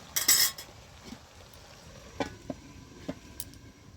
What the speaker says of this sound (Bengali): তো ঢাকনাটা খুলে আমি দেখতেছি শাকটা আমার রেডি হয়ে গেছে কিনা।